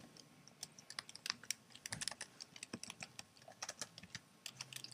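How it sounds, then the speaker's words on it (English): Someone types a web address on a computer keyboard, quick irregular clicks of keys tapping in short bursts, close and fairly quiet, with no talking. "let's go ahead and type in my address"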